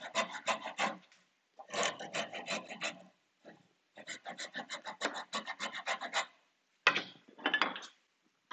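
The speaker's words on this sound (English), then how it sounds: "what I might try again with my saw rasp I showed you guys last month, try to cheat a bit of carving by using this" A saw rasp scrapes across wood in carving strokes, bursts of quick rhythmic rasping separated by short pauses, close and crisp with no talking.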